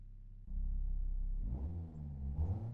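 A game car in Assetto Corsa fitted with a four-cylinder engine sound, an engine shared with the Clio Williams, holds a loud steady drone, then revs up and down in a couple of quick rises.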